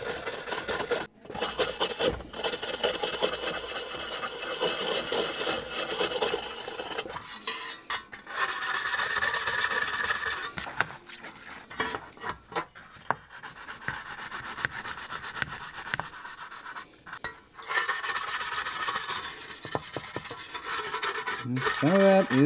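Rust being scrubbed off vintage Fender Jazzmaster guitar hardware, a close, steady rasping and rubbing that runs in long strokes with a few brief pauses, loud and continuous with no talking.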